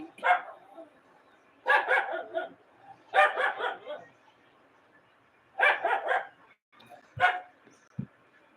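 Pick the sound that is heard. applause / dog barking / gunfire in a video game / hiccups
dog barking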